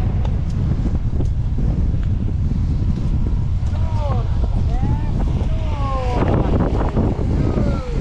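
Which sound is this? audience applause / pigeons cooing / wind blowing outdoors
wind blowing outdoors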